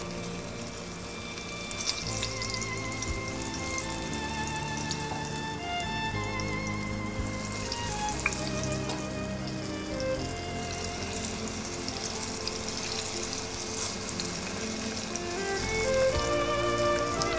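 Cubes of brinjal fry in hot oil over medium heat, giving a steady, dense, even sizzle like light rain that carries on without pause throughout, with no voices.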